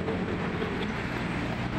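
An MRT train passes over a bridge overhead in Quezon City, making a continuous rumbling roar with a faint rhythmic rattle that stays steady and fairly loud throughout.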